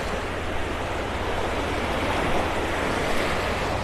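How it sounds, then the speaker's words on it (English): Small waves roll steadily onto Vanderbilt Beach in North Naples, Florida, a continuous broadband wash of surf with some wind, fairly close and alone without voices. "A few little waves rolling in here."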